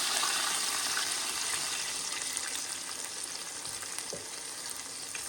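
Lamb roast sizzles and fries in a pan, a steady, dense crackling hiss that holds evenly throughout with no talking.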